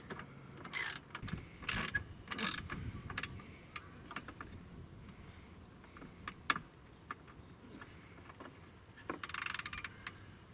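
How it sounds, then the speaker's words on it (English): A hand wrench ratchets in short bursts while a winch is fitted to a Can-Am Outlander 500 ATV, quick clicking runs separated by pauses and scattered metallic taps, close but quiet. "This poor little wrench barely has a grip on it."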